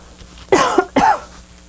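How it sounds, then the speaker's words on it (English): Two sharp, dry coughs in quick succession from a nearby person, each a short harsh burst, followed by quiet. "Excuse me, I get a cough."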